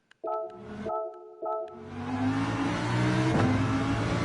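A race car engine in a racing video game at the Deep Forest circuit, with two short steady tones and a brief blip before the engine climbs into a long, rising acceleration whine that shifts once partway through. There is no talk.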